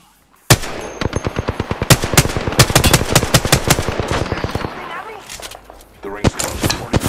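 Rapid bursts of automatic gunfire in an Apex-style battle royale video game, loud and close, with rhythmic repeated shots and brief gaps, with a voice speaking at points.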